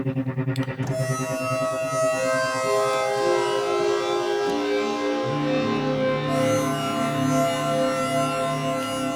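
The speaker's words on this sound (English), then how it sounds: "You very often get that quite harsh, kind of otherworldly sound from granular." A granular synth preset from Steinberg's Wood & Water for HALion sounds a single held note: a harsh, droning, siren-like tone with layered shifting overtones, sustained and loud, with no voices.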